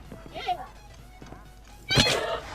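A Minecraft horse whinnies twice: first a short, faint neigh, then a louder, fuller one near the end, with light thuds and a voice talking in the background.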